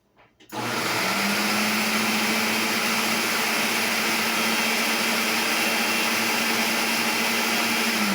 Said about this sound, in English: I'm thinking about 10 more seconds in the food processor and then it'll be ready.